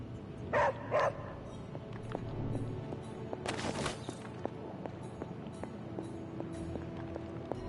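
Two short barks from Charlie the dog in Marvel's Midnight Suns, close and fairly loud near the start, followed by a brief louder burst of game noise over a low ambient hum.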